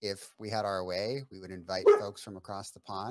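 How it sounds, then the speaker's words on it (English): A dog barks somewhere in the background of a home setting while someone talks steadily over it, the barking faint and partly buried beneath his voice. "I don't know if you heard him barking in the background."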